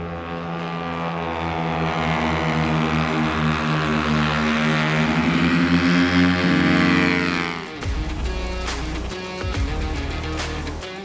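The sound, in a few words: race motorcycle loud exhaust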